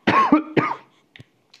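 Two close, harsh coughs from a character in the horror platformer Little Nightmares II, followed by faint short game noises, with no talking.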